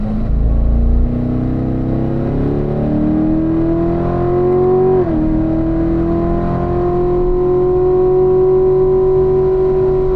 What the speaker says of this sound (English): sweep all the way out to the left side of the track as you accelerate hard. And we'll upshift to fourth